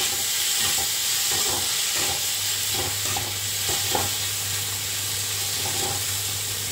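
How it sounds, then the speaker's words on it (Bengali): Salted onions fry in a separate pan (kadai), giving a continuous close sizzle with bursts of stirring and a low steady hum underneath, and no talking. "পেঁয়াজটা আমি তাড়াহুড়ার জন্য আলাদা কড়াইতে ভেজে নিচ্ছি।"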